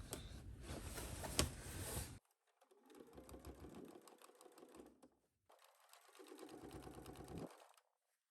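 Close, quiet bursts of a sewing machine fitted with a zipper foot, top-stitching on a pants pattern: three runs of rapid needle chatter separated by short pauses, the first faster and brighter.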